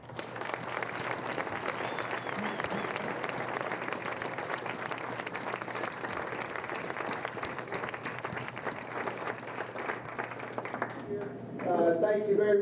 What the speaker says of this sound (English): giving a final nice round of applause to our class of 2022 inductees and student athletes